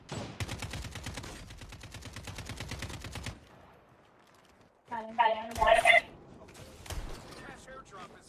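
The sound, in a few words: shotgun fire in video game Call of Duty Mobile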